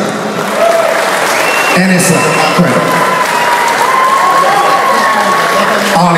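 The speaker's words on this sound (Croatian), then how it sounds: "Jedan aplauz za molim za našeg domaćina." Wedding guests at a celebration in Slovenia applaud the host in a steady, dense round of clapping mixed with crowd noise, with voices talking and calling out over it.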